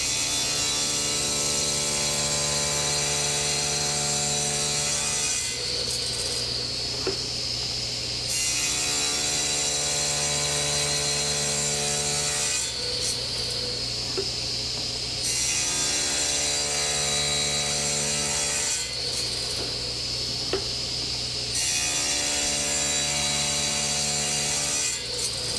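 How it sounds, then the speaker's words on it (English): A table saw cuts aluminum in repeated passes, a steady motor whine rising into a harsher, grinding rasp with each cut, roughly three cycles, close and continuous. "things can go wrong very quickly when cutting aluminum on the table saw."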